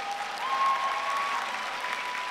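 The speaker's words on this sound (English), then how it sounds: "So, big applause, ladies and gentlemen, Finn Wolfhard." Steady applause from a convention panel audience at a comic con, a dense wash of clapping hands that holds evenly throughout, with a faint tone ringing underneath.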